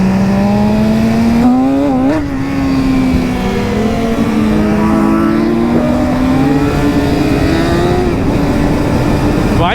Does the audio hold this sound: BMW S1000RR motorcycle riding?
yes